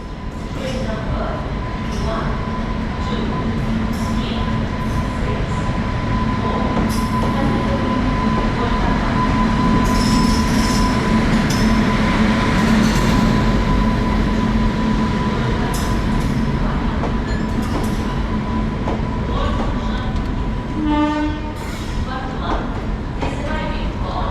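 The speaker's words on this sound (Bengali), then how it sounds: "তো আমাদের ট্রেন ঢুকছে কলকাতা হলদিবাড়ি" A Kolkata–Haldibari Superfast train pulls into Malda Town station, its steady rumble and clatter filling the platform with a constant, loud wash of rail noise, with brief squeals and announcement-like tones above it and crowd voices mixed in.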